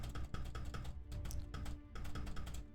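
A computer keyboard's space bar is pressed over and over in a quick, uneven rhythm, each soft clack close and fairly quiet, with no talking.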